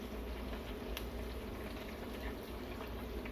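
French fries deep-frying in 350-degree oil, a steady dense sizzling and bubbling hiss with no pauses, close and moderately loud.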